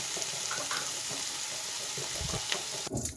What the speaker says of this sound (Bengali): টমেটো এখন আবার দু মিনিট ভাজবো